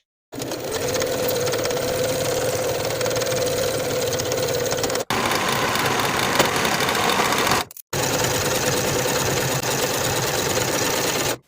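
Sewing machine stitching a half-inch seam on a pair of jeans, running steadily in long continuous bursts with two brief stops, loud and close with no talking.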